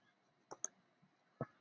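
Keyboard keys tapped on a computer, three sharp, quiet clicks, two close together then one after a short pause, in a near-silent room.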